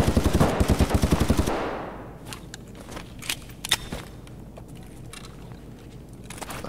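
Rapid automatic gunfire in the shooter game Escape from Tarkov rattles loudly in a dense burst, then breaks into a few scattered, sharper single shots and clicks over a quieter background.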